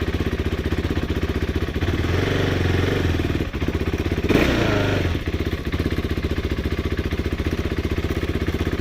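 A 2014 KTM 390 Duke single-cylinder engine idles steadily on a paddock stand, then rises in two loud throttle blips in the middle before settling back to a close, even idle. No talking is heard.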